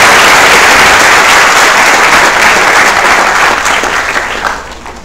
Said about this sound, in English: let us clap for that